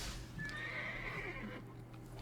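A horse pet in Magic: the Gathering Arena gives a single clear whinny that rises and falls over about a second, with soft hoof clops, heard alone and fairly quiet.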